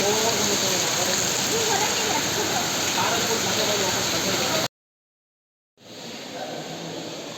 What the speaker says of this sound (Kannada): ನಾವು ಬರೋಷ್ಟಕ್ಕೆ ಎಕ್ಸಾಕ್ಟಾಗಿ ಮಳೆ.